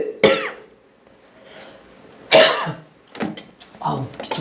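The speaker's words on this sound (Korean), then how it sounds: "아우 기침 너무 나오네." Several harsh coughs from a preacher during a church Sunday sermon, close and loud, a sharp burst near the start, another strong one mid-clip, then a few shorter throat-clearing coughs, with no talk between them.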